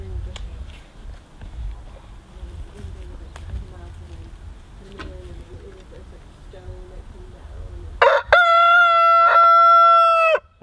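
A rooster crows loudly and close by in an abandoned apple orchard, one long drawn-out cock-a-doodle-doo following quieter clucking and faint background activity.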